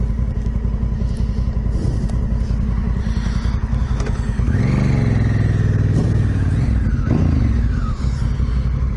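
A big adventure motorbike such as a Honda Africa Twin, KTM 790R or Yamaha T7 rumbles steadily nearby on a road, then revs up loudly and shifts midway before settling again, with no talk.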